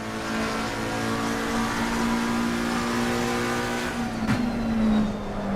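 McLaren GT race car in Assetto Corsa Competizione howls at sustained high revs, a steady loud engine drone with a brief shift blip near the end, no voices.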